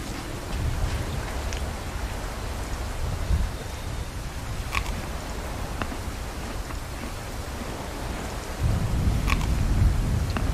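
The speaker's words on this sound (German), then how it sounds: "Also das Gewitter ist richtig gut geworden." Thunderstorm ambience in the video game Tropical Escape: steady rain hiss throughout, with low rolling thunder rumbles swelling early and again near the end, no voices.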